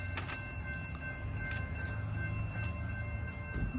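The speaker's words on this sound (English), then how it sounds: "Oh, we got a train coming through." A train rumbles past nearby through the railroad town of Ashland, Virginia, with a low, steady roar, faint metallic clacks and high whining tones over the top.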